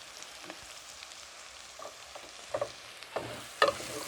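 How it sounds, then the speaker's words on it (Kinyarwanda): Green beans, carrots, green peppers and onion frying in a pan, a quiet low sizzle broken by a few stirring scrapes and clacks that grow slightly louder toward the end. "Tubikarange nabyo kugeza bihiye"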